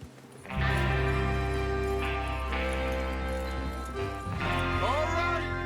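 Horses gallop in the video game Red Dead Redemption 2, a steady run of hoofbeats under music and voices.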